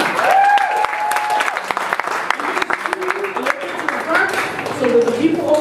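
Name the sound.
audience applause welcoming a speaker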